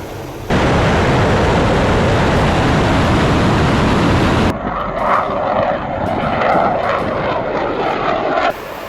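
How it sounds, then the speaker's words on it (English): Two Su-34 fighter jets fly past with a loud, dense roar of jet engines that fills the space, then shifts to a rougher, fluttering rumble partway through. "2 Su-34 fighter jets were deployed to deliver a response that left no room for compromise."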